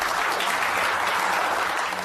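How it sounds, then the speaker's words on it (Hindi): A group in an office setting in a TV drama applauds a winner. The clapping is steady, dense and close, holding at an even level for the whole stretch, with no clear talk over it. "तालियां बजाओ"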